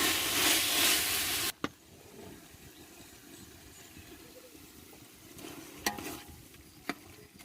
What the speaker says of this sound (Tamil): அது நல்லா வதங்கினதும் தக்காளி போட்டு இப்போ வதக்கிட்டுருக்கோம்